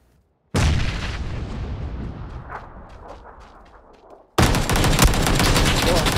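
A video-game grenade bursts with a loud boom whose rumble trails off over several seconds, then heavy continuous gunfire erupts abruptly and carries on loudly to the end.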